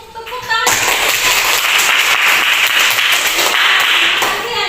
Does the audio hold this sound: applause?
yes